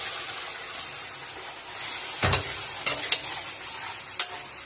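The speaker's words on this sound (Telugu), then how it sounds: "ఇప్పుడు మనం ముందుగా గ్రైండ్ చేసుకున్న టమాటా ఉల్లిపాయ చట్నీని యాడ్" Ground tomato and onion chutney hits a hot tempering in the pan and sizzles loudly, a steady frying hiss with a few sharp spits and stirring clatters.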